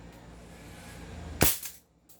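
An MK1 Carbine airsoft sniper rifle fires a single loud, sharp crack during a chronograph test, with a quiet low rumble before it and a brief fading tail after.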